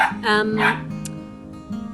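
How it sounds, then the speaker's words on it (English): A dog barks several times close by, the barks rising over a person talking, then a softer yip near the end. "my dog's barking"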